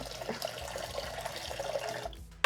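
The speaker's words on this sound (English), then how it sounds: "so now we're going to put some water" Water runs from a tap into a cooking pot holding oats and quinoa, a soft continuous splashing trickle at close range that cuts off near the end with a faint clink.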